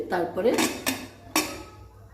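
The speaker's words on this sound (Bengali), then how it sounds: "এবার প্রেসার কুকারটা বন্ধ করে দেবো।" Pressure cooker lid pushed shut in a home kitchen while making bhuna khichuri, giving a brief metallic scrape and two sharp clanks close by, with a voice murmuring briefly at the start.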